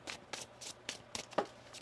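Tarot cards being shuffled by hand in quick papery bursts, about seven riffles in under two seconds, close and fairly quiet with no talking.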